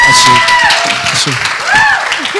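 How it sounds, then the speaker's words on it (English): Audience at an interview event claps for the guest, a sustained bright patter of applause mixed with whistles and voices talking over it throughout. "Let's give her a clap."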